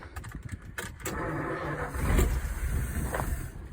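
A 1951 Ford with a fuel issue, its starter cranking in a quick, uneven rhythm as the engine tries to catch, followed by a rougher, louder burst as it nearly fires.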